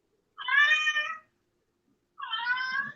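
A hungry cat meows loudly for food, two long, drawn-out calls separated by a short silence, close to the listener.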